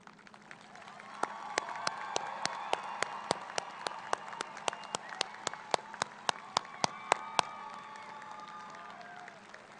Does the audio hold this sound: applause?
yes